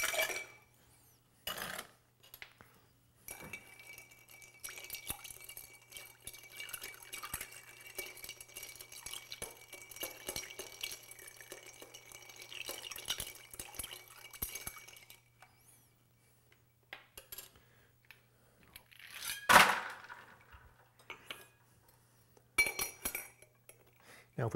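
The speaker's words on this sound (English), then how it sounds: "Or I guess really finally we add the ice." Ice cubes clink into a glass while a Royalist whiskey cocktail made with George Dickel and peach bitters is assembled, giving a long stretch of light glassy rattling and a few sharper clinks near the end.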